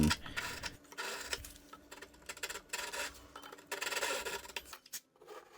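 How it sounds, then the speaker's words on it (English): A big handsaw rasps back and forth, cutting a slot in wood in quick, uneven strokes, close up and fairly quiet, with brief pauses between bursts. "me sawing away at this with a big handsaw here"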